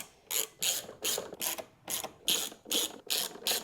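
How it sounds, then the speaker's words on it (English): A ratchet drives plastic screws into an Ariens Razor mower during an anti-lockup kit install, making eight or nine close, evenly spaced clicking bursts of ratcheting strokes with no voices. "You wanna send these in with a ratchet because we're gonna torque them down later."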